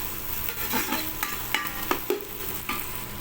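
Chili peppers sautéing in a pan with onion and garlic, a quiet steady sizzle under a few brief scraping strokes of a spoon stirring the mixture.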